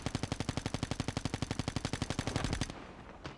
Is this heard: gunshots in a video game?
yes